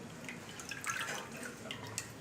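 Water drips and trickles faintly from boiled carrots draining in a kitchen strainer, with soft irregular droplet taps over a quiet background.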